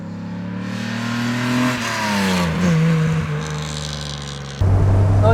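A 1955 Mercedes 300 SL Gullwing driving over a rough, poorly surfaced road, its engine droning steadily and rising in pitch as it accelerates, then dropping to a lower hum near the end.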